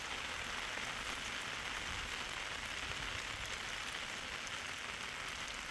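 Pre-monsoon rain falls in May as a steady, dense hiss of drops on surfaces that continues evenly throughout, with no voices.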